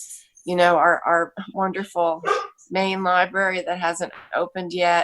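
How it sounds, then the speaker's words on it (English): A pet dog barks at home during a virtual city-county committee meeting. The barks sit under a steady stream of nearly continuous talking. "Sorry about my dog barking."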